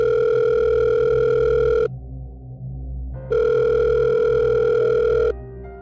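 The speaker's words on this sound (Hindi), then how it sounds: "कि पॉकेट में रखा उसका फ़ोन बज उठा।" Mobile phone ringing in a pocket: two long electronic ring tones separated by a short pause, loud and close, with no voices.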